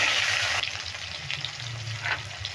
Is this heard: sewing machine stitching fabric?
no